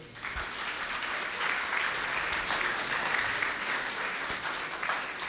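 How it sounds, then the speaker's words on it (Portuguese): A church congregation applauds a guest preacher, a sustained, even roar of many hands clapping, moderately distant and filling the room without interruption. "vamos aplaudir o Vitor"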